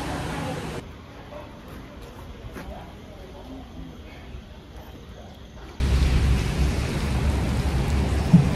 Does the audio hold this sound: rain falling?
yes